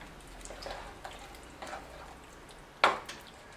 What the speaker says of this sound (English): And we're just going to stir that through.